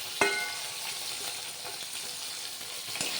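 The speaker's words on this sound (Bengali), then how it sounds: "এইভাবে লাল লাল করে ভেজে নেবেন" Fish fries in hot oil in a pan with a steady, close sizzle that never stops, and a few sharper pops and crackles at the start and near the end.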